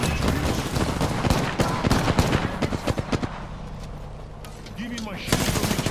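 Rapid automatic gunfire in the video game Apex Legends, dense overlapping bursts and shots, loud and close, easing briefly before resuming, with voices talking over it.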